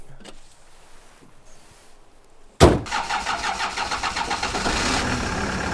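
Old, somewhat broken car's engine cranking and catching after a quiet stretch, a sudden loud start followed by a rough, pulsing idle close by.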